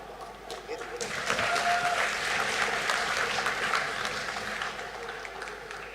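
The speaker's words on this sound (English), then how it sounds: "A huge round of applause." Sustained applause from the crowd at the closing ceremony of the North East Games in Nagaland swells after the first second and holds steady, fairly loud and full, with a voice heard faintly beneath.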